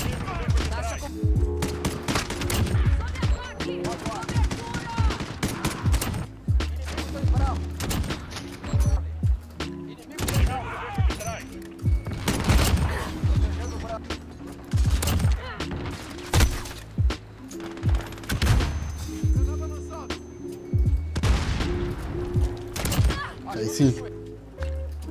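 Rapid, loud bursts of sniper rifle gunfire from a Call of Duty Modern Warfare match crackle almost without pause, layered with game sound effects and thumps throughout.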